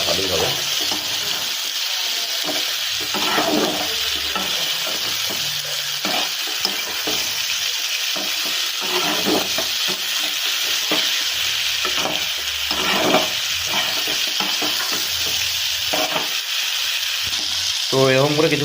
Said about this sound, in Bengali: তো এরকম করে কিছুক্ষণ মাছটাকে ভালো করে নেড়ে চেড়ে নিতে হবে